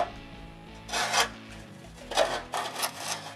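A steel trowel rasps and scrapes across a lime render finishing coat on stone walling in several short strokes, close and dry-sounding with quiet pauses between passes.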